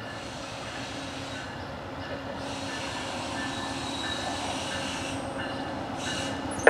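VIA Rail passenger train 84 passes a street crossing in Kitchener, a loud, close, continuous rumble of rolling cars with rhythmic wheel clatter and squealing throughout.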